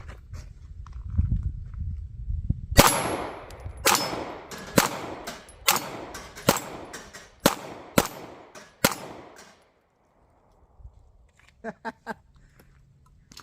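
A Stoeger STR-9 9mm pistol fires about nine sharp, loud shots at a steady, slightly uneven pace, with low murmuring before the first shot and a quiet pause with a few faint clicks after.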